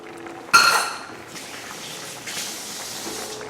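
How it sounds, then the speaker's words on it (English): A metal utensil strikes a pan of cooking fresh sausage with one sharp, ringing clang that decays briefly, followed by a low steady sizzle and a softer scrape later. "There I go, making noise again, hitting the pan."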